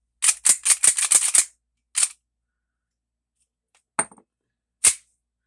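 A WeTech toy gun's cleaned mechanism is worked by hand, a quick burst of six or seven sharp metallic clacks, then a few isolated louder snaps with silence between.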